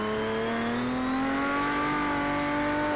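A Porsche 917K racing engine in Project Cars 2 accelerates with a loud, steady rising whine as the revs climb smoothly, heard up close with no talk.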